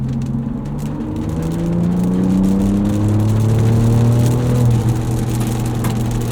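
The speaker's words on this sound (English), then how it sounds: "Overall, I'm actually pretty impressed with the lower noise levels of these Yokohamas." Yokohama Geolandar tires on a 2024 Ford Ranger Raptor give a steady low road hum and whir inside the cabin as the engine tone climbs and shifts under acceleration, continuous and fairly loud with no talking.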